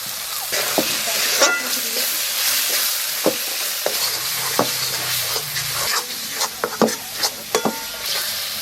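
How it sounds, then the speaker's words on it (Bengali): Turmeric, salt and spices frying in a pan for a duck egg curry in a rural Indian kitchen, a steady bright sizzle broken by occasional scraping stirs and light clinks of the utensil against the pan. "মশলা ভাজা হয়ে গেছে"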